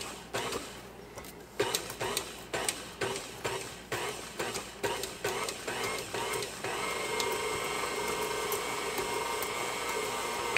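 An electric mixer mixes chocolate chip congo bar batter in a bowl, starting in short repeated bursts and then running steadily, close and fairly loud.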